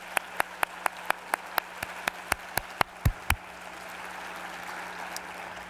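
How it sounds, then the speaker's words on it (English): Audience applause for a university board of trustees during a president's address at RIT opens with sharp, evenly spaced claps close by, then gives way to a softer, diffuse wash of clapping. "Let's give them a round of applause as well."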